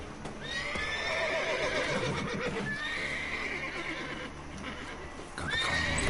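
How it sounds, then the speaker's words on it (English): Several horses neigh and whinny in The Witcher 3 video game, loud and close over a constant rumbling background and shuffling hooves. "those horses are starting"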